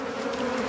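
A swarm of bees gathering outdoors gives off a dense, steady buzzing drone that is close and moderately loud.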